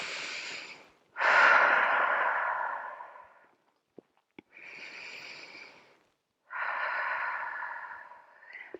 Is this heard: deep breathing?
yes